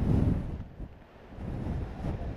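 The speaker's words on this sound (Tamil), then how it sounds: "காற்றுடன் கூடிய கனமழையானது கோவளம் பகுதியில் தீவிரமாக இருக்கிறது என்று சொல்லலாம்." Cyclone Mandous wind and heavy rain on the coast at Kovalam: a strong, roaring gust buffets the microphone, eases briefly, then surges again as a constant rumbling wash.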